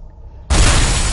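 A grenade explodes in the SAS 3 video game: a sudden loud blast after a brief quiet lead-in, its broad roar sustained to the end.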